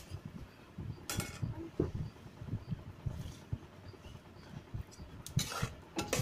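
Bottle gourd sweet mixture stirred in a pot on a village kitchen stove, soft scraping and shuffling with faint clinks, quiet and close.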